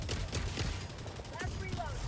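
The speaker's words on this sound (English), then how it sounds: "Firing orbital strike." Orbital strike firing in the Helldivers video game, heard as dense, rapid booming bursts of gunfire-like blasts with whistling tones, under a steady layer of battle noise.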